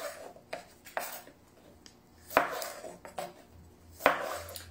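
A knife cuts red vegetables, likely tomatoes, for a salad on a board, with irregular crisp chops and taps, a few louder strikes among softer ones, close and without talk.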